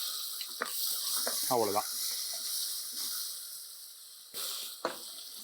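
Chopped small onions and tomato sizzle in a hot pan, a steady hiss running throughout, broken by a few sharp clinks of stirring utensils and a brief spoken word.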